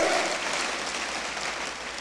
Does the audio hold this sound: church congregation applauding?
yes